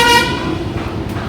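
A fair ride train horn at a Ras Mela, one short loud toot that fades into a steady crowd and engine rumble.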